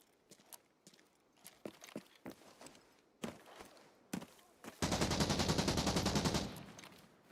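Gunfire from a SIG in a video game raid: scattered sharp single shots and thuds, then a loud sustained rapid automatic burst lasting about a second and a half, close and dominant.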